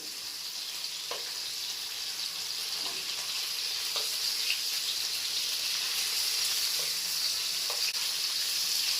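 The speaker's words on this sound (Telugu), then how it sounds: "ఇవి ఇలా బాగా వేగాలండి ఆయిల్లోను" Dried shrimp and fish frying in oil, a steady bright sizzle with a few soft taps and clinks as pieces are turned, close and continuous, no voices.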